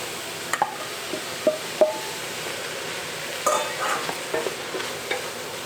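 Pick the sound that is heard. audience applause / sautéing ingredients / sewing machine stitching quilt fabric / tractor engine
sautéing ingredients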